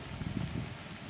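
Soft, steady rain patters outdoors on a late-August day in Denmark, faint and continuous with no voices.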